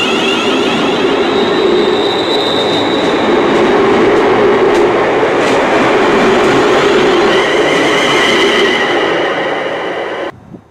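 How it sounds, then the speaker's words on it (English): A train pulls out of a station with a loud, steady rumble of wheels on rails, high squeals and clicking over joints, holding constant before cutting off abruptly near the end. "So that train's now gone back to Birmingham."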